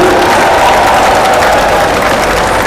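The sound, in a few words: applause at a political rally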